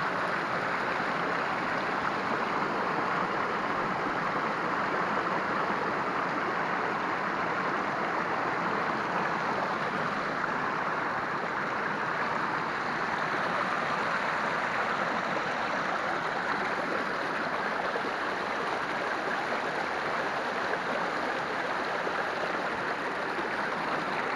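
Mountain stream and waterfall cascade in the Carpathians, a steady broadband rush of falling water that stays even and close throughout, with no voices.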